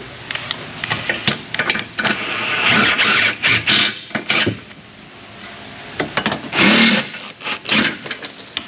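An impact wrench drives subframe bolts into a car's underside, firing in repeated short rattling bursts with brief pauses between them, loud and close.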